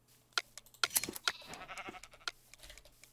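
Sheep bleating in the Minecraft video game, several short, quiet bleats scattered among clicky game sound effects, with no speech.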